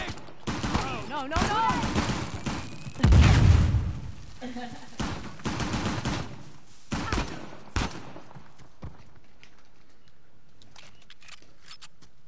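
Rapid gunfire bursts in Uncharted: The Lost Legacy during an ambush firefight, loud and dense early on and thinning to scattered shots, with shouted voices in between.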